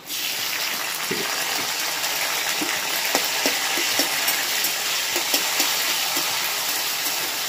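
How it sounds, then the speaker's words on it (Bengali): Chopped tomato fries in hot oil over a curry leaf tempering for a pointed gourd dish, making a steady close sizzle with scattered small pops throughout. "টমেটোটা একটু ভেজে নেবো ভালো করে"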